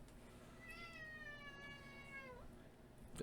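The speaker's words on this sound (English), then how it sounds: "my cat was pawing my foot trying to meow and interrupt the story" A single drawn-out cat meow rises and then slides downward, fairly quiet and nearby, with a small bump of noise just after it.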